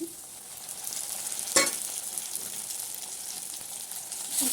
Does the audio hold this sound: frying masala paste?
yes